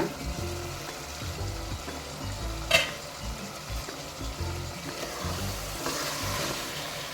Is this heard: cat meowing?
no